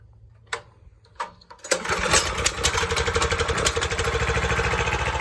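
A Predator 301 engine fitted in a Yamaha Warrior ATV: a couple of short pull-start attempts, then it fires and settles into a loud, steady, close chugging run with no talk.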